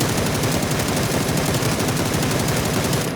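Rapid, continuous automatic gunfire rattles steadily throughout, loud and evenly pulsed with no pauses, from video game weapon effects.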